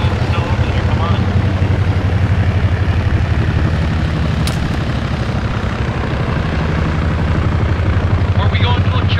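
A Chinook helicopter in a military video game, its rotor and engine making a loud, continuous low thumping drone that fills the whole clip.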